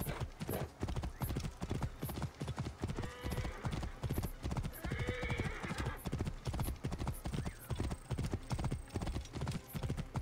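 A ridden horse gallops in Assassin's Creed Origins: a steady, rapid drumming of hooves throughout, with a brief whinny partway through over a faint background.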